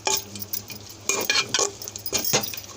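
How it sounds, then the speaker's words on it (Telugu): A spoon stirring cardamom powder into sweet pongal in a pot: several short scraping, clinking strokes in uneven bursts, close and fairly quiet, with no talking. "ఇప్పుడు దంచి పెట్టుకున్న యాలకుల పొడి అండి లాస్ట్లో వేసుకొని మొత్తం తిప్పుకోవాలి"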